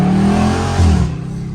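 Dodge Scat Pack engine revving hard up close during a pull, a loud rising roar that peaks and then drops away quickly.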